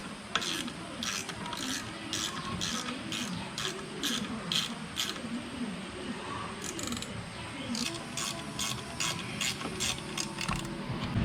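A ratchet drives a screw into the frame of a 2013 Yamaha G29 Drive golf cart, giving rapid, close, rhythmic clicking bursts that pause briefly and then resume.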